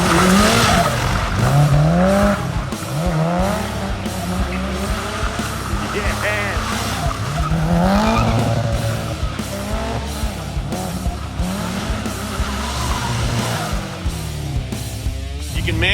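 A Subaru WRX STI with its tyres squealing and skidding through a gymkhana run, loud engine revving and rising and falling throughout, with a person talking over it.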